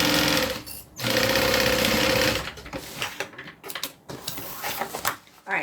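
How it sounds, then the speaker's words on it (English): A sewing machine stitches the side of a bag in two loud, steady whirring runs, then stops and gives way to softer clicks and handling noises. "Alright, that side is sewn on."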